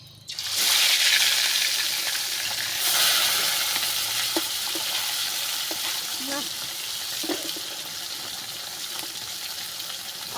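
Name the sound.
rohu fish frying in hot oil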